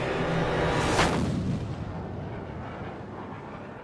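A large artillery gun fires a single deep, loud boom with a sharp crack, then the blast rumbles and fades away over a few seconds with no talking.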